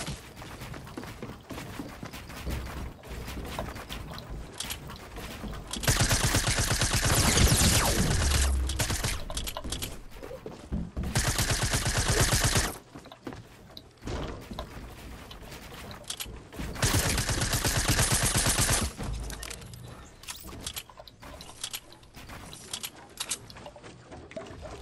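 A silenced SCAR fires in Fortnite in the Sneaky Silencers mode as dense, rapid suppressed bursts in two long stretches, with quieter clicking and ambient game noise between them and no talk.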